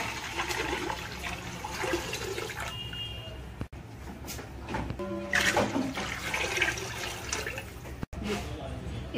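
Water runs and splashes into a cooking pot while making egg biryani, a steady close pour resembling a tap filling, with a few brief breaks and some kitchen clatter.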